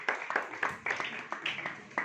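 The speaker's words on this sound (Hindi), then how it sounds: "जोरदार ताली बजाइए खुदा के जलाल के लिए।" A church meeting audience claps in a quick, steady rhythm, and voices run over and between the claps.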